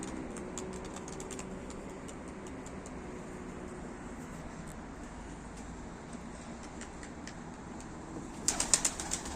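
Tumbler pigeons land with a quick cluster of wing flaps near the end, close and sharp, after a long stretch of steady outdoor background noise.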